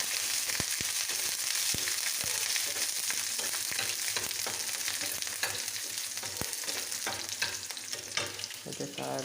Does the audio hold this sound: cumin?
yes